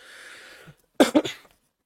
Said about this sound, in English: I don't know why I have this cough for some reason